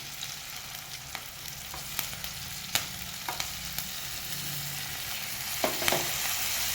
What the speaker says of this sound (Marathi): याला पण बारीक गॅसवरती चांगलं याला पण परतून घेऊ आपलं टमॅटो पण चांगलं बघा गळलेलं आहे